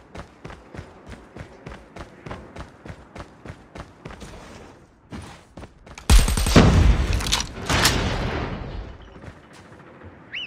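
Video game gunfire, a long run of evenly spaced footstep-like taps giving way to a loud, dense burst of rapid shots and blasts, close and dominant, fading toward the end.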